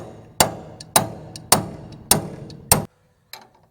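Five sharp metallic blows from an adjustable hammer on farm equipment during wheat harvest, evenly spaced about half a second apart with ringing decay, then a brief silence and a fainter sixth tap.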